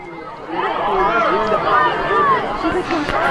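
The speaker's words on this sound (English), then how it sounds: "Good crowd tonight as" Crowd noise at a high school football game at Timberwolf Stadium, a steady roar of cheering and chatter from the stands with an announcer's voice over it.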